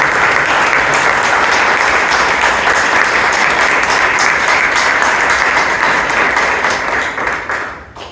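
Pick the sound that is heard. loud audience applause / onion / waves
loud audience applause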